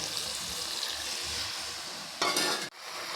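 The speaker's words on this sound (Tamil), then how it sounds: "இந்த ஸ்டேஜில் கொஞ்சமாக தண்ணி சேர்த்துக்கிறோம்" Steady sizzling of mushroom gravy in a pan, then a sudden louder hiss as water hits the hot surface and cuts off abruptly.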